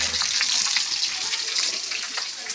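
Food frying for a home-cooked lunch, a steady broad sizzle of hot oil that stays loud and close throughout, with no talk over it.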